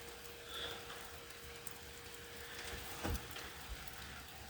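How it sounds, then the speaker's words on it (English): Steady, soft rain hiss fills the air, with a brief heavier patter or gust about two-thirds of the way through; no voices. "It was raining a little bit harder for a second."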